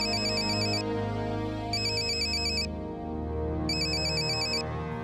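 A mobile phone ringtone plays for a call from the boss, a bright repeating electronic melody in three steady bursts, loud and close, with no voices.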